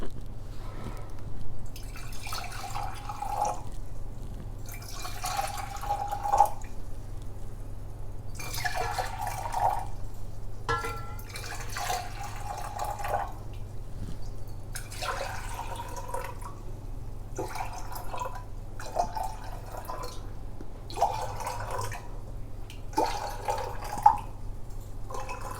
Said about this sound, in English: So we'll just pour this out into the jars.